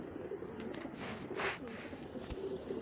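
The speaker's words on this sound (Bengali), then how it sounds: "এটা একটা সুন্দর লাইনের কবুতর" A fine-line local pigeon coos softly up close in a few low, throaty notes against a faint steady background.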